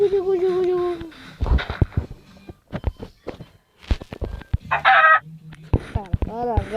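A chicken in the game Minecraft clucks and crows amid footsteps and other game sounds, while a voice talks over parts of the clip.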